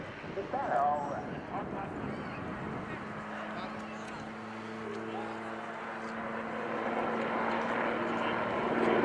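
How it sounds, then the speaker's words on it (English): A military air force helicopter display team at the RIAT 2015 Fairford airshow, its rotor and engine drone rising and sustained in the distance while a commentator talks over it. "The helicopter crew now slowly comes to an end of its display"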